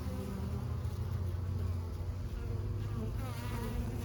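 Honeybees carrying goldenrod pollen into the entrance of a hive on a fall day: a continuous close buzzing from many bees that holds steady throughout, with no talking.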